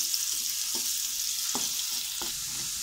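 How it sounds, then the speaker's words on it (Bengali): Chopped onions fry in oil in a pan with a steady bright sizzle throughout, and three soft clicks of stirring are heard near the sizzle. "এখানে আমি আরো 1/2 কাপ পেঁয়াজ কুচি দিয়েছি, 1/2 কাপ তেল দিয়েছি। এটাকে ভেজে দিব প্রথমে"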